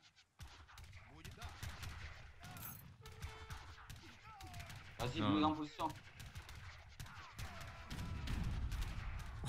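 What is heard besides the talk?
cannons firing in a video game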